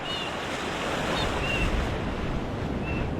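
Ocean waves wash through the surf zone in a steady, broad roar with wind buffeting the microphone, continuous and fairly loud, with a few faint high bird-like chirps above.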